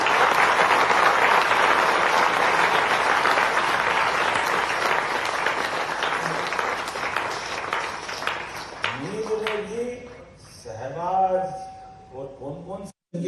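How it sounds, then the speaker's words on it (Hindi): An audience at a textile expo inauguration in a hotel in Indore applauds in honour of the army, long dense clapping that gradually thins out, then a voice begins speaking as it fades. "एक बार जोरदार आनंद से आपकी सेना के लिए सम्मान में तालियां।"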